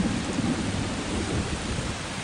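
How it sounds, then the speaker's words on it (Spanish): Thunder rumbles through a storm after lightning, a continuous low roll blended with steady heavy rain, moderately loud and unbroken throughout. "mientras un fuerte ruido siguió al rayo"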